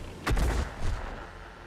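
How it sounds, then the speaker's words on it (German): An artillery shot from the tank game World of Tanks fires as one loud, booming blast with a short rumbling tail and a second, softer thump close behind. No one speaks. "Aber der nächste Schuss ist Arti"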